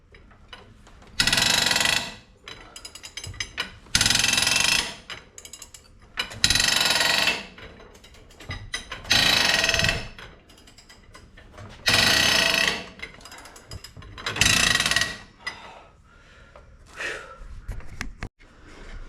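A rusted cab bushing bolt on a 2000 Ford F350 breaking loose, giving six loud, grinding, creaking bursts of about a second each with short pauses between, then softer scraping, with no talk.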